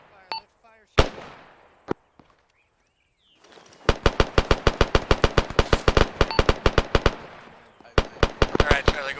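Marine squad training with the 15th MEU: scattered single gunshots, a pause, then a long run of rapid machine-gun bursts echoing outdoors, loud and close, followed by more shots.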